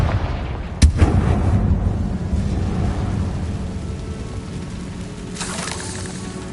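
A Confringo spell blast in Hogwarts Legacy lands as a sharp booming impact, followed by a rumbling, crackling rush of debris that slowly fades, with a second softer burst later.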